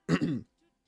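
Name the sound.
coughing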